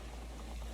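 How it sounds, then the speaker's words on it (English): A pot of shrimp fried rice mixture with rice boils hard, making a brief, steady, soft bubbling rumble up close. "It's completely boiling."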